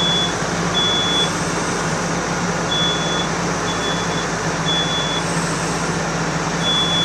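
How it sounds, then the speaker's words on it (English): A smoke alarm beeps in short repeated high-pitched bursts over a loud, steady roar of background noise, as smoke builds during a fire sprinkler demonstration. "The smoke alarm has sounded."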